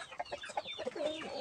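Chickens clucking in a coop, a hen among large roosters, with a quick series of faint, close clucks and squawks and no talking.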